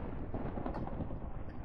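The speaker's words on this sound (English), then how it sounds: "Even though the thunder in the background is extremely loud." Thunder in the Minecraft video game, a loud, continuous low rumbling roar that fills the whole moment with no pauses and no talking.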